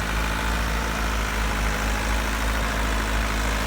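A Massey Ferguson 375 tractor with a Perkins engine idles in steady low rumble, a continuous even drone with no voices over it.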